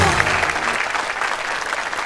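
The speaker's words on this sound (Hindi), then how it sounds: "जोरदार तालियां रेखा जी के लिए।" A studio audience at a televised comedy show applauds loudly and steadily, a dense wash of clapping that holds for a couple of seconds.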